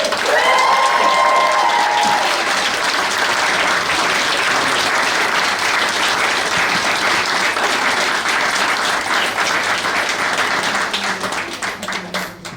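Loud, sustained applause and cheering from guests at a UK civil wedding ceremony as the newly married couple is presented, with a few whoops early on, the dense clapping fading near the end.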